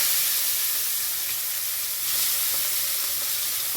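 Shrimp frying in hot oil left over from frying pointed gourd, a loud continuous sizzle and hiss close up, steady with no talk.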